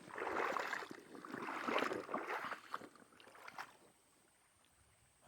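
Creek water at an outdoor gold-panning spot, a faint, soft splashing and gurgling that comes in uneven swells for several seconds, then fades to quiet.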